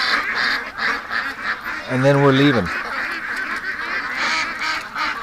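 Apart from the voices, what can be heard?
ducks quacking and honking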